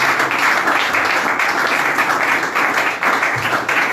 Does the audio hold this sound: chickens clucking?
no